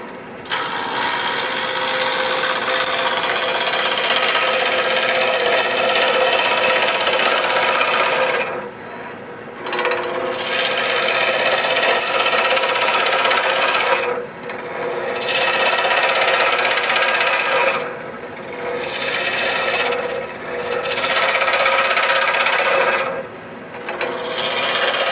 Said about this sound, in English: I'm rubbing a bevel right now. Because I'd rather slice wood than tear it away.